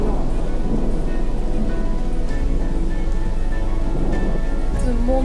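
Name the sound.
thunderstorm with rain and thunder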